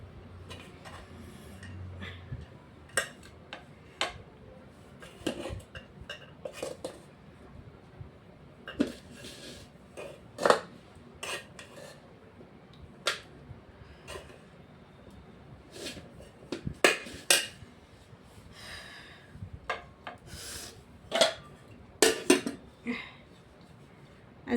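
Hot rice is served onto a plate at a home meal, with a long run of irregular clinks and taps of dishes and a serving spoon, scattered sharp ticks spaced unevenly throughout.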